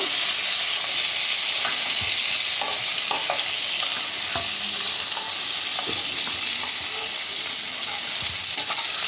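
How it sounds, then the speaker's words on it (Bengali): Slices of pointed gourd (potol) fry lightly in hot oil, giving a steady, close sizzle broken by scattered clicks and scrapes of stirring, with no talking. "সামান্য একটু নাড়াচাড়া করে হালকা করে ভেজে নেব।"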